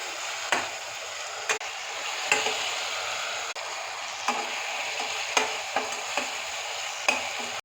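Tomatoes sauté in a pan for vegetable biryani, a steady broadband sizzle with a spoon scraping and clicking against the pan every second or so, close and fairly loud, no voices.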